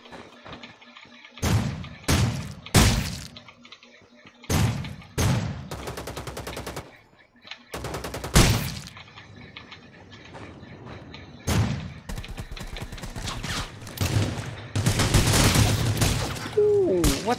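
Rapid bursts of VSS rifle gunfire from the game Ring of Elysium, repeated sharp volleys broken by short pauses, loud and close, with heavier firing toward the end.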